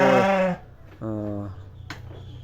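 A one-month-old Garut sheep lamb bleats twice on a farm, two loud, close, wavering cries separated by a short pause, followed by a faint click.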